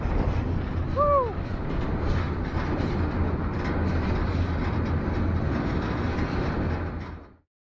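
Freight train rolling through Red Pass Junction near Valemount, British Columbia, heard from aboard: a steady, loud rumble of wheels and cars with a brief squealing whine early on, continuous until it cuts off at the end.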